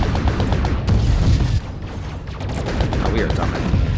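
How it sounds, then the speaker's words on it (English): A gravity nuke detonates in the space-battle game Fractured Space, a loud, dense rumble of overlapping booms and crackling blasts that rolls on continuously for several seconds. "Gravity nuke."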